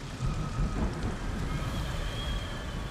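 Steady rain pours down with low rumbling thunder rolling underneath in the video game Ghost of Tsushima, a constant dense wash of sound with no voices.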